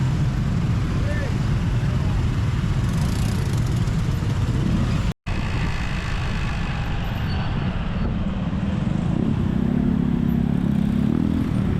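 Busy Jakarta street traffic of cars and motorcycles, a dense, steady rumble of engines close by, with a momentary dropout partway through, then a deeper engine drone building toward the end.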